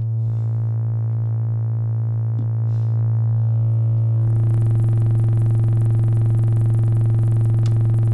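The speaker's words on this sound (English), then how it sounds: "Going back to a sine wave, let's try some audio rate modulation on this." A steady pure sine tone hums alone, then about halfway through audio-rate modulation through a Future Sound Systems FIL3 filter turns it brighter and buzzier, a fast wobble thickening it into a harsh, sustained drone.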